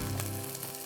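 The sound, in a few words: chicken frying in a Dutch oven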